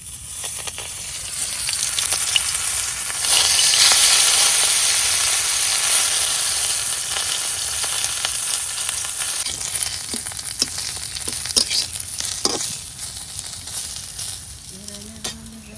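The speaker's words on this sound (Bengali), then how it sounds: "এই পুলিগুলাও ভাজা হয়ে গেছে।" Dried-fish puli wrapped in ash-gourd (chal kumra) leaves, a Netrokona village dish, fry in a pan of hot oil with a loud, steady, close sizzle that thins out later, broken by a few light clinks and scrapes.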